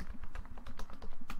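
Quick, uneven keystrokes on a computer keyboard as a search query is typed, a close, steady patter of clicks with brief pauses between bursts and no voices.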